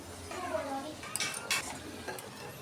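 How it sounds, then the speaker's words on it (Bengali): Potatoes fry in a pan for chicken biryani, with soft sizzling broken by a few sharp scrapes and clinks of a spoon stirring against the metal. "এখন আমি আলুটা সুন্দর করে ভেজে নেব"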